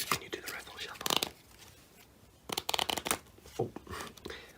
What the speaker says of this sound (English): We can you do the riffle shuffle?